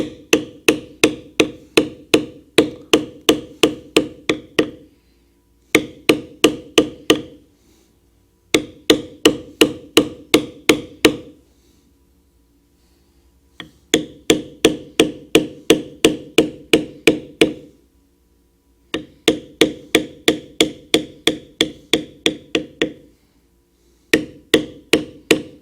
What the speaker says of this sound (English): So we will continue beveling.